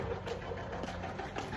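A motorcycle engine idles nearby with a steady, slightly uneven low rumble. It holds continuously at moderate loudness with no talk over it.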